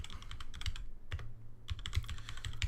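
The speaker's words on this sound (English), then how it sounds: "let me just start typing that in." Someone types on a computer keyboard: quick, irregular clusters of close, crisp key clicks with brief pauses between bursts, no talking.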